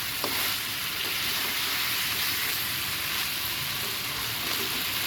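Meat slow-fries (kosha) in a pan on medium-low heat, giving a steady, dense sizzle that runs without a break, with faint scraping now and then, close up and with no voices.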